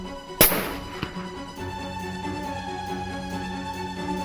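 One loud, sharp video-game gunshot cracks out near the start, followed by a fainter second shot about half a second later, then a steady electronic game hum with no talk.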